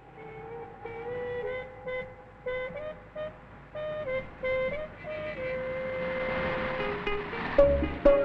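Car horns honk repeatedly in a line of traffic, overlapping toots of different pitches that grow into a loud, sustained cacophony of several horns at once.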